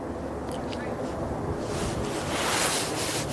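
Jet aircraft engines spooling up at Manchester Airport, heard as a loud, broad outdoor roar that swells partway through, mixed with wind buffeting the microphone.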